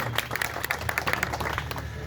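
Dense, steady applause from a crowd at a fair inauguration, many hands clapping at once without a break, loud and close for the full two seconds.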